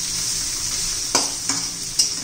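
Onion with ginger-garlic paste sautéing in oil in a pan, a steady loud sizzle with three sharp stirring scrapes near the end, no voices.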